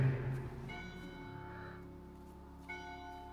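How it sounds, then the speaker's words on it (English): Church bells at a lakeside villa in Abruzzo, Italy, ring with sustained, layered metallic tones that decay slowly, heard at moderate distance, and one new strike comes in near the end. "And church bells. Can you hear?"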